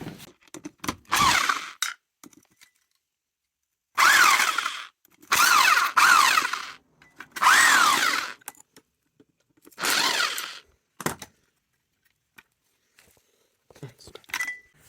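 An angle grinder cuts into an old washing machine motor in five or six loud bursts of a few seconds each, whining and rasping against metal, separated by silent pauses.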